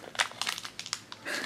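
Plastic foil blind box bag for Disney Hocus Pocus mystery pins being wrestled open by hand, giving a run of close, bright crinkling and crunching bursts with brief pauses, nearly constant over a second and a half.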